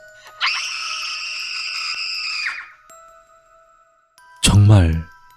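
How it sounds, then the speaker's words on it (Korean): A sustained high, wavering scream holds for about two seconds in a horror radio drama, followed after a pause by a deeper, falling groan-like cry and a faint ringing tone. "정말 그 비명소리 하나에 소름이 돋아버렸지."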